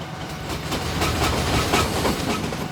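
Tista Express intercity train running on tracks between Dhaka and Joydebpur, a continuous close rolling rumble with rhythmic clickety-clack of wheels over rail joints and a faint hiss, no voices.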